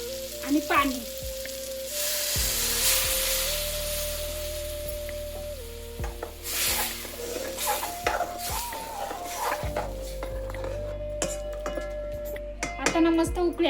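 Mango raita mixture with water simmers and sizzles steadily in a pot, with occasional clinks of a utensil against metal and a faint steady tone running beneath.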